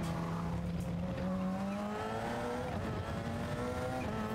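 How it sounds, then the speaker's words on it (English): Porsche race car in the GT Sport racing game, engine droning steadily with rising and falling pitch as it runs practice laps, a continuous close engine note with faint tire noise underneath. "we're gonna put in some practice laps here in the Porsche"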